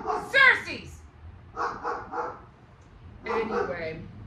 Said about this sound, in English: There, I knew he was gonna start barking.